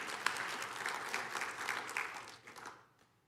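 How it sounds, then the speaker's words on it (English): A church congregation claps during a sermon, a brief burst of steady, fairly faint applause that tapers off and stops after about three seconds. "you can clap for Jesus all day long"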